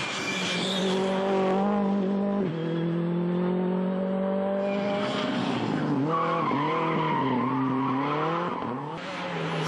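A Ford Fiesta rally car races at the Rallye de Wallonie, its engine revving hard with rising and falling gear changes and tire squeal, loud and close.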